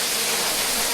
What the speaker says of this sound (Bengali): এই সেই চিংড়ি ঝর্ণা, আমরা এই চিংড়ি ঝর্ণায় আছে এখন